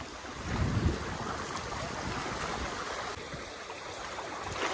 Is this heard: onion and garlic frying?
no